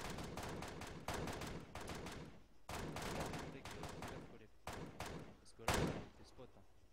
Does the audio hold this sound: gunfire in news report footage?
yes